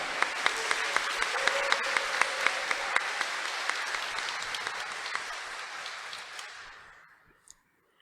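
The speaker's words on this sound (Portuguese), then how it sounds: "Dê uma salva de palmas para Ele, minha gente." A church congregation at a Sunday Mass homily applauds: dense, sustained clapping from many hands holds steady for several seconds, then tapers and fades to silence.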